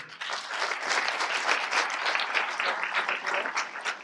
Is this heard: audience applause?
yes